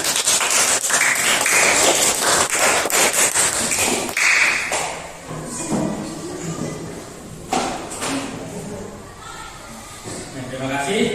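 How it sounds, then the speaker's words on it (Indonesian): Classroom applause for a student group's work, a burst of quick clapping from many hands that fades into scattered claps and taps, with chatter and voices throughout. "Tepuk tangan, kelompok 2 ada memberikan hasil karya terbaiknya."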